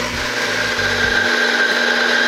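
An espresso coffee grinder's motor whirs loudly and steadily as its burrs spin while pressed, with a low rumble that drops away midway and leaves a constant high mechanical whine.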